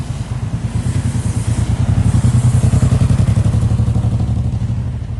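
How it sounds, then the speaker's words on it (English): A motorbike passes close by on a run-down town street, its engine giving a loud, pulsing thrum that swells and holds before easing slightly. "Here's a motorbike."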